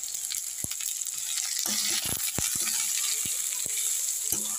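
Carrot, capsicum and beans frying with moong dal in a pan for sabu khichuri, a steady close sizzle with occasional clinks and scrapes of stirring, no talking.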